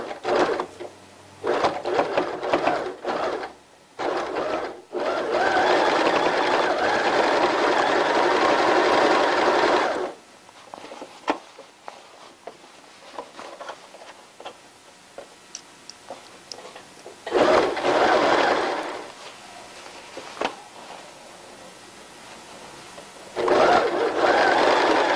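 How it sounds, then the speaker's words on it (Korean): A sewing machine runs a straight stitch over elastic band stretched while sewing underwear fabric, with long steady mechanical whirring bursts, short pauses and stops in between, close and loud with no voices. "고무줄을 당기면서 박음질 하시면 됩니다"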